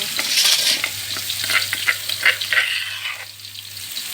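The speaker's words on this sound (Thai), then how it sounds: "ผัดกะเพรา" Squid and holy basil stir-fried in a hot pan, with a continuous loud sizzle broken by repeated scraping and clattering strokes of a spatula against the metal, close up and with no talk.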